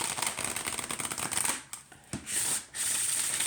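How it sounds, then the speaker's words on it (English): Oracle card deck bridge-shuffled by hand: a dense riffling flutter for about a second and a half, a brief pause with a soft tap, then another steady riffle, close up with no talking. "if you just like the bridge shuffle"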